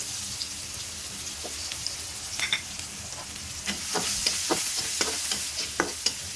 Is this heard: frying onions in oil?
yes